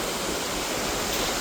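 Rushing water near the Vasudhara waterfall, where falling spray turns to mist, a dense and steady close-up roar of torrent and splash filling the whole clip with no voices.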